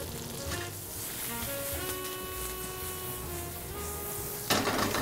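Chicken livers and shallots with fresh thyme sizzle steadily in a hot pan, a continuous close hiss with a brief sharper burst near the end.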